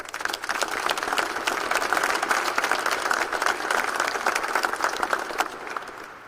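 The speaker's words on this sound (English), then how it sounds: "Let's give her a round of applause." An audience at a university news conference introducing a new athletic director breaks into applause for a colleague, dense sustained clapping from many hands that holds steady at full strength, then tapers slightly near the end.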